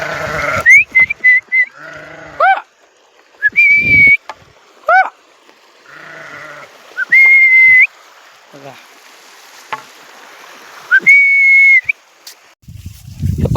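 Sheep by a full-flowing river bleat repeatedly in short wavering calls, some close and loud, spaced between quieter stretches of soft outdoor ambience, along with a few sharp whistles.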